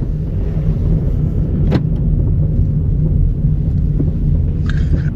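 Kia car driving, a loud, continuous low engine drone and road rumble from inside the cabin, with a couple of brief knocks and rattles breaking through.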